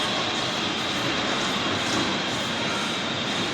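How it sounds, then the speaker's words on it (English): A train rolls past inside the Oakland Mall, a steady loud rumble of wheels on rail with a faint metallic squeal, continuous and close for the whole stretch, with no one talking. "I'll let the train pass."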